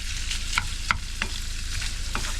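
Lardons frying in a pan: a constant sizzle broken by several sharp utensil scrapes and taps as the pieces are pushed apart, with no voices.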